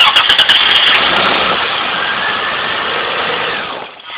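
A car engine cranks with rapid clicks, then catches and runs with a loud, rough roar while the throttle is held slightly open, before the sound drops off at the end.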